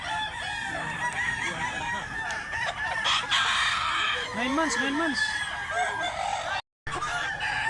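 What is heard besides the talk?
rooster crowing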